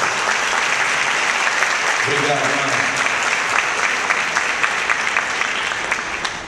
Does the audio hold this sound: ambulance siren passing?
no